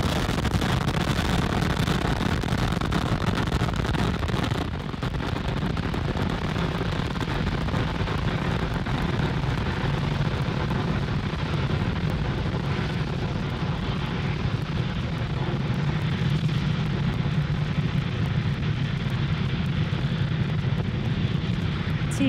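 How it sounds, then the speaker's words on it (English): SpaceX Falcon 9 rocket engines roar during liftoff from Cape Canaveral Space Force Station on a Starlink mission, a loud continuous rumbling thunder with crackling texture that holds steady and fills the whole stretch. "Falcon 9 has successfully lifted off from Cape Canaveral Space Force Station"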